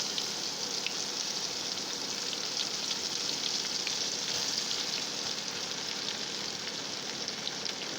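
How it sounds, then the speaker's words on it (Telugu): Gram flour pakoras deep-frying in peanut oil give a dense, even hiss of bubbling oil that holds steady throughout, with no voices over it. "నేను ఇందులో కొంచెం కొంచెంగా వేసుకుని ఆయిల్లో ఫ్రై చేయాలన్నమాట"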